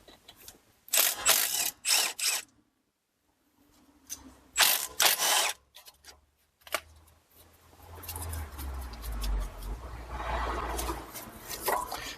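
A hand ratchet clicks in short bursts while loosening the two 13 mm brake caliper bolts on a Chrysler Town and Country minivan, followed by lower metallic handling and rustling of the loosened parts.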